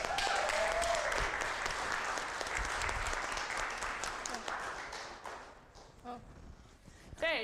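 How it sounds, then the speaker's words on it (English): Audience applause and cheering for a group of improv comedy performers at a live show, loud and sustained before thinning out toward the end, with scattered voices mixed in. "Give them a round of applause."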